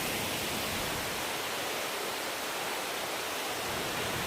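Waterfall at Old Man's Cave in Ohio heard from a nearby bench, a steady broadband rushing roar, loud and unbroken throughout with no voices.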